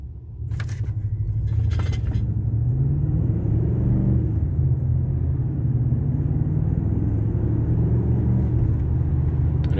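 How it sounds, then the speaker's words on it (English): Ford F350 pickup with a 10R140 transmission accelerating: a steady, loud low engine rumble that builds and holds throughout, with a brief jangle of keys near the start. "Make one more attempt at recording an acceleration here, an attempt to duplicate the concern on camera."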